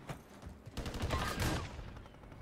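Shots crack out during a Warzone video game match in a dense, rapid cluster of loud bursts that fades toward the end, with no talking.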